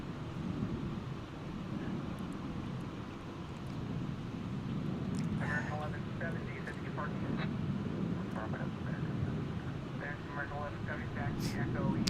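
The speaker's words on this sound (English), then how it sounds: "So there's the A380." An Airbus A380 airliner's jet engines roar as a steady low rumble at DFW airport, broad and continuous with wind buffeting the microphone, while people talk over it.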